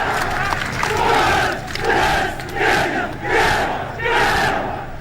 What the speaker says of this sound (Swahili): Tuwape makofi tafadhali